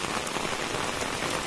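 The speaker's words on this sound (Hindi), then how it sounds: "उसी के वजह से हम लोग के बिहार में भी बारिश हो रहा है, आप लोग देख सकते हैं" Steady rain falls over a Bihar village beside a maize field, a dense, even hiss of drops on surfaces with no break or voices.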